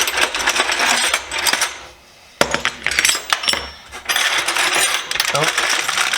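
A pile of metal wrenches clinks and clatters as they are handled and shuffled, with dense jangling bursts, a brief pause and a sharp clank, all close by.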